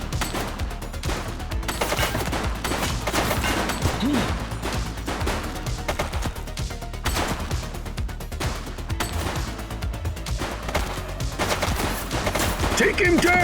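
Dense, continuous gunfire from a police video game, with bursts of shots, crashes and impacts layered throughout and voices shouting over the combat.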